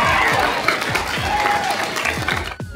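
A convention crowd at Midwest Furfest claps in a dense, continuous patter that is loud and near, fading slightly near the end.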